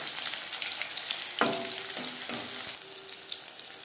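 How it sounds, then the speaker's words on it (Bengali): Paneer frying in hot oil on a medium flame, a dense steady sizzle heard close up throughout, with a few soft clinks and stirring movements breaking through, no voices. "হাই ফ্লেমে তেল আমি গরম করে নিয়েছিলাম, ভাজবো মিডিয়াম ফ্লেমে।"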